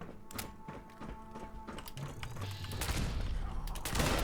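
Gauss weapon shots in Fallout 76, including a Gauss anti-armor rifle and Gauss quad pistol not fully charged, heard as several heavy thunking discharges with a growing loud mechanical roar toward the end.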